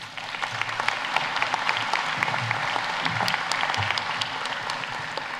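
Sustained audience applause at a white coat ceremony, a dense steady wash of many hands clapping from a large crowd, continuous and fairly loud throughout with no speech over it.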